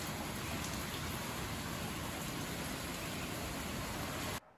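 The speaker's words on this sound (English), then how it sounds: "it's been raining non-stop" Steady rain falls on a home food garden, a dense even hiss of drops that runs unbroken for several seconds at low volume, then cuts off abruptly near the end, with no voices.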